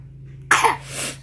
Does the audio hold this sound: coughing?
yes